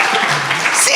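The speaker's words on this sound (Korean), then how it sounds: "우리 목사님 박수라도 쳐줘요" A Korean church congregation claps for their pastor in a brief, dense burst of applause with a voice mixed in underneath.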